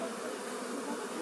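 Millions of honey bees hum at the hives while being moved, a dense, loud, continuous buzzing drone, close and unbroken, with no voices.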